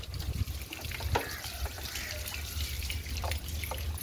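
Water trickles and drips steadily from a damaged pipe, a thin continuous dribble with occasional splashy drops, fairly quiet and close, with no talking.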